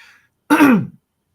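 A single throat clearing, close and fairly loud, lasting about half a second, with a faint breath just before and silence after.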